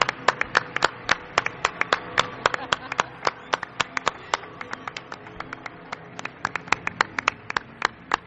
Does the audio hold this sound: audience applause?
yes